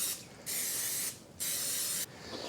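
Cooking spray greasing six timbale molds in a home kitchen, two long loud hissing bursts with brief pauses between, close and alone.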